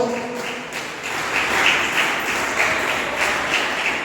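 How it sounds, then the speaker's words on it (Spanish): Church congregation applauding during a Spanish-language sermon, a steady wash of hand clapping that swells after the first second and holds at a fairly loud, even level. "Dale un aplauso al Señor."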